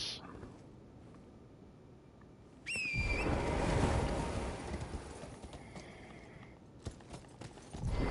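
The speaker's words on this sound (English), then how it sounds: "let me off my horse" Horse hooves clop in the video game Elden Ring in a quick, uneven rhythm close by, starting after a quiet stretch, with a brief high whinny-like tone and rustling.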